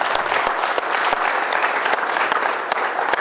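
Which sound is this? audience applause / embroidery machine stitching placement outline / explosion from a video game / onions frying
audience applause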